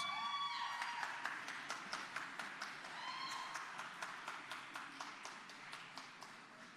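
Quiet, somewhat distant clapping from an audience at a medal of honour presentation ceremony, with a few sharper individual claps recurring in a loose rhythm and faint tonal pings early on.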